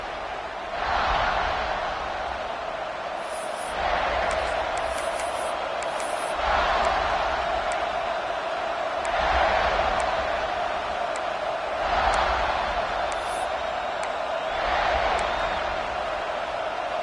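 A packed stadium crowd at a South Carolina college football game roars steadily around a kickoff, swelling into repeated waves of cheering and shouting with occasional whistles, loud and continuous throughout.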